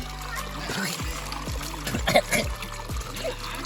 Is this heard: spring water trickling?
yes